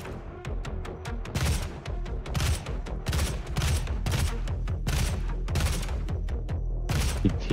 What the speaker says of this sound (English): I'm like shooting him in the head